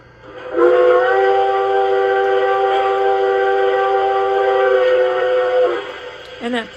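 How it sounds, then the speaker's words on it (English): A sustained steam whistle from an LGB 2019S model locomotive fitted with a Zimo MS950 sound decoder, blowing loud and steady for about five seconds before cutting off, with a brief click at the end. "F3 is a long whistle."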